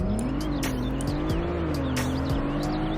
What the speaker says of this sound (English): we're just going to do traction off, rev it all the way up, and we'll see what the 0 to 60 is